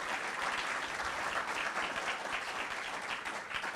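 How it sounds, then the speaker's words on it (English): Steady applause from a pub talk audience after a presentation, dense and even clapping throughout without a break, moderately loud and filling the room. "please, a round of applause."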